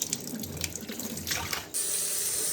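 A tap runs water into a sink during rinsing, splashing at first and then switching to a steady, louder hiss of flow, close by with no talking.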